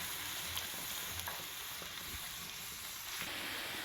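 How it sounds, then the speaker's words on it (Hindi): Chicken cooking in a pan with beaten yogurt gives a soft, steady sizzle with faint stirring scrapes, continuous and fairly quiet throughout. "तो इस दही के साथ ही मैं इस चिकन को अच्छी तरह से करूँगी कुक"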